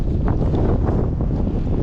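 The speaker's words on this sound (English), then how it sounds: "Very windy." Strong wind blowing outdoors near a tower in Québec, Canada, a dense steady roar buffeting the microphone without pause, with no voices.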